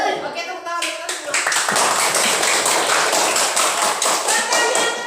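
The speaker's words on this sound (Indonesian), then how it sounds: "Oke, tepuk tangan kita semua." A classroom of children claps together in quick, rhythmic, closely spaced hand claps that start after a brief spoken voice and continue loud and steady to the end.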